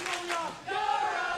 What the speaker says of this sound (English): the crowd yelling superlatives out to the adorable one